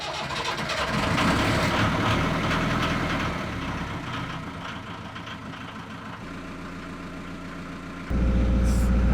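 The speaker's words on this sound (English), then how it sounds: "Let's just see how the engine starts." An off-grid narrowboat's diesel engine with glow plugs, heard turning over and settling into a steady, loud, low rumbling run, with a sudden jump in level near the end.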